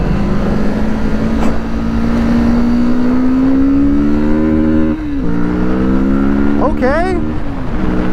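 A Kawasaki ZX-4RR motorcycle accelerates hard, its close, loud engine rising in pitch through a long pull. It drops briefly at a gear change and then revs up sharply again. A rider speaks a word near the end.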